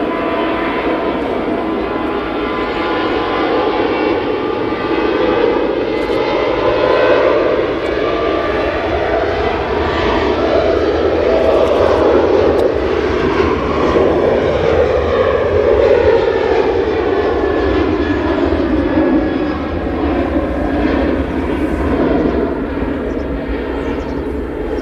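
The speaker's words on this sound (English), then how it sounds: "Okay, so we've got Ryanair now departing." Ryanair jet departing Manchester Airport, a loud continuous engine roar that swells and slowly shifts in pitch as the aircraft climbs away, with no voices over it.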